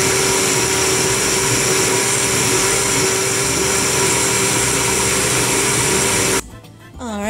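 A blender liquefies hot, freshly cooked Mexican hot sauce in a loud, steady roar for about six seconds, then cuts off abruptly, leaving a short quieter tail.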